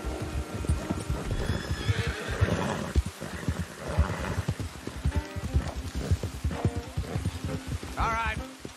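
Horses neigh and hooves clop in Red Dead Redemption 2, with uneven hoof beats, a few whinnies including a sharp one near the end, heard under game characters talking.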